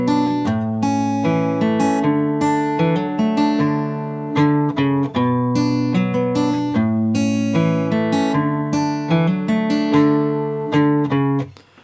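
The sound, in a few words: guitar playing a melody line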